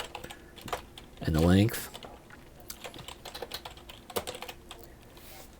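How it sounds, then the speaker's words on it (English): Keys on a computer keyboard clack in a quick, uneven run of light taps during work in a utilities site program, heard close and moderately loud while someone talks over part of it. "I could type in the type of line"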